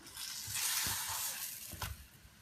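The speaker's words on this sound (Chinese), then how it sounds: "油热后放入饼皮，饼皮的表面也抹上一层油" A home-style flatbread, its surface brushed with oil, fries in hot oil in a pan with a bright, close sizzle that swells and dips, plus a couple of brief louder bursts.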